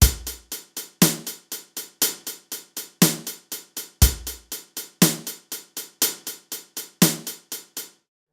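PolyNome metronome groove of hi-hat, kick and snare in steady eighth notes, accented clicks every fourth note, with a deep kick thump opening each bar, crisp, close and alone.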